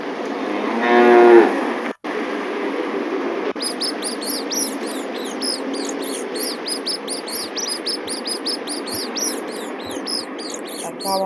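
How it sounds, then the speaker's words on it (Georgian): Cattle moo in long drawn calls over a farmyard bed, then a brief cut and a run of repeated bird chirps and tweets that fills the rest, with low background murmur under the animal sounds. "ცხოველების ხმა და ცხოველების ხმაში მექნება ფრინველების ხმაც"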